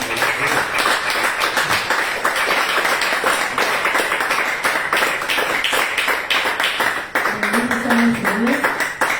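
A dense, steady patter of a church congregation clapping fills the space, with voices underneath and a brief sung or spoken tone near the end.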